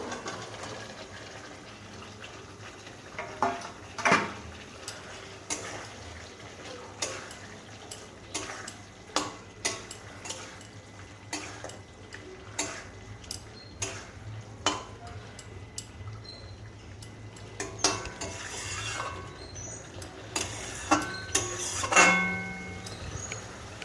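Fried paneer pieces are tipped into a pan of spice paste and stirred, giving a string of clattering spoon scrapes and soft sizzling knocks, close and steady throughout, with no talking.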